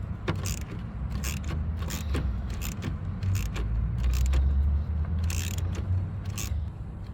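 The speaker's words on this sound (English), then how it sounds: "you just basically need to loosen the bolt, and then you could just manually take it out the rest of the way" A bolt is loosened and unscrewed by hand on a car during an EMP Shield install, making a series of light metallic clicks and scrapes over a low background rumble.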